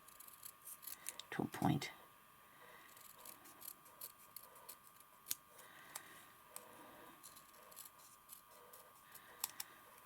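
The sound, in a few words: scissors cutting embroidery material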